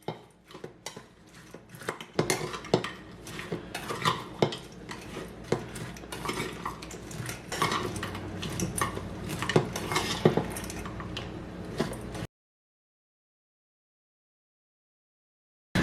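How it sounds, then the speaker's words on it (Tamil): Bitter gourd sambal being mixed in a bowl for a Sri Lankan salad, with repeated scraping and clinking of a spoon against the dish in an uneven rhythm, close and clear, ending abruptly in silence. "இதை நல்லா மிக்ஸ் பண்ணி விடுங்க."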